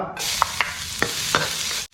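Steady sizzling of garlic frying in hot clear oil in a pan, with a few sharp clinks of a utensil against the pan, close and without talk.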